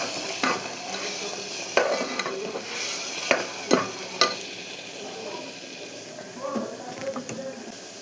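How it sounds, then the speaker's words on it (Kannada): Dried fish frying in a pan with a steady oil sizzle, broken by sharp clacks and scrapes of stirring utensils against the pan throughout. "ಈಗ ಒಣ ಮೀನು ಫ್ರೈ ಮಾಡ್ತಾಯಿದ್ದೀನಿ"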